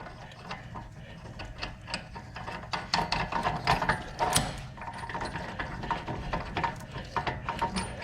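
A hand ratchet tightens the nut on a 2001 BMW 325Ci rear wheel bearing assembly, giving repeated close, crisp clicking bursts in an uneven rhythm, with no talking.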